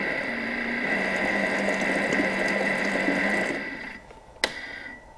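A Thermomix runs in reverse mode, gently stirring an asparagus risotto with a steady whirring, ratcheting mechanical drone that continues for several seconds, then drops off, leaving a single sharp click near the end.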